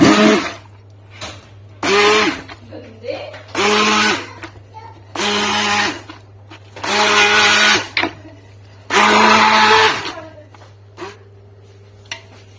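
A blender blending carrots runs in repeated short bursts, each a loud whirring pulse lasting about a second, separated by pauses with a steady low hum underneath.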